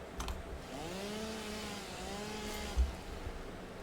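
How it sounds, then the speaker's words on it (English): A chainsaw in the video game Satisfactory revs up in a rising then steady motor whine for a few seconds, with short clanks near the start and middle, loud and alone with no talking. "I now have a chainsaw, which does not look like one."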